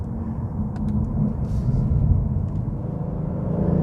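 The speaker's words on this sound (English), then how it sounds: "You can hear the engine revving away, and it's got that very faint sound coming through the speakers." Inside a Genesis G70 3.3T sports sedan on the move, a low, steady engine drone with a faint rising rev, heard from the cabin at moderate level with a few light clicks.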